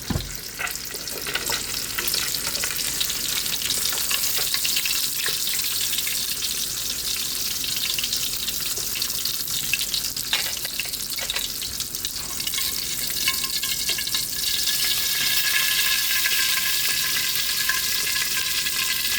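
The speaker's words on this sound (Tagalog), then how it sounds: "Awin na natin yung ating pritong walang kamatayang tilapia" Tilapia frying in a pan, giving a steady, dense sizzle with crackling pops that runs unbroken throughout, with no one talking.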